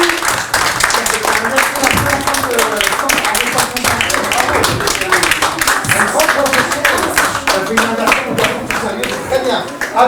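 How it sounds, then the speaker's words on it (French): Audience applause during a theatre cultural-mediation session staging La Partie de Cartes from Marius, loose, uneven clapping with distinct individual claps, mixed with voices throughout. "Applaudissements."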